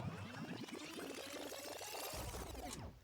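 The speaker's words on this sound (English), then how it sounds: "a tape rewind car horn that sounds like this" A rewinding-tape style car horn from the Forza Horizon 5 racing game, a continuous warbling, sweeping sound about three seconds long with wavering pitch lines, loud and close, heard alone with no talking.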